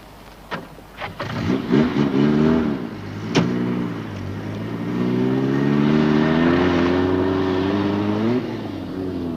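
A car engine running on torch batteries starts up with a few sharp bursts, then settles into a steady, loud mid-pitched drone that rises slightly as it revs and holds close by.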